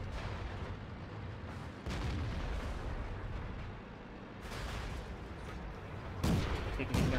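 Tank cannons fire in a video game, a dense run of booming blasts and rumbling bursts over continuous battle noise, with a sharper volley near the end.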